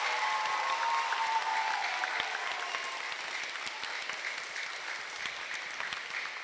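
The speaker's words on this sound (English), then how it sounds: "Can we give our veterans a round of applause?" Sustained audience applause for veterans at a school Veterans Day ceremony, a dense, steady wash of many hands clapping at moderate distance, with faint voices mixed in as it gradually thins out.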